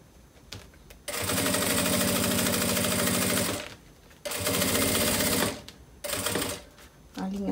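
A sewing machine stitches a fabric notebook cover in three loud, steady buzzing bursts of a few seconds each, separated by short quiet pauses.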